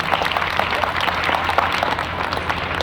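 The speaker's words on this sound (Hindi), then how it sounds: "पहली जो ताली बजेगी वो जोरदार तरीके से अपने पेरेंट्स के लिए बजाएंगे" Applause for parents from an audience at a ceremony honoring top students from private and government schools, a short burst of dense, fairly loud clapping over low hall rumble.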